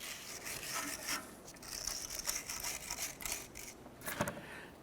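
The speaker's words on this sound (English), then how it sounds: "use our brush here, our bristle brush, and clean off on the back side where the wheel hub comes through the backing plate" Bristle brush scrubbing the rusty backing plate around the wheel hub of a 2006-2013 Chevy Impala, close raspy strokes in an uneven rhythm with no talking.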